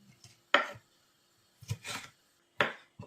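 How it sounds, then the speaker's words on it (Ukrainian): Knife chopping paprika into large pieces on a cutting board, a few separate, sharp thuds spaced about a second apart, close and clear with quiet gaps between. "Великими шматочками поріжемо паприку."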